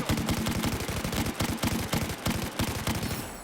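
Rapid bursts of MG4 machine gun fire in a video game, sharp repeated shots in quick automatic strings, fairly quiet and with no voices.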